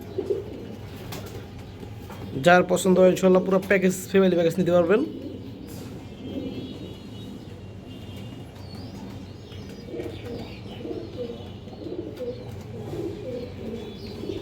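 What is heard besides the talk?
pigeons cooing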